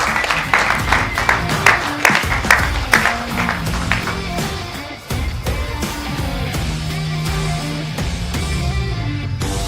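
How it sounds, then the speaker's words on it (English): A short round of applause from the room after a property sells at a live multi-property auction in Cape Town, brisk clapping that fades midway, followed by a lower murmur of background noise. "Little round of applause."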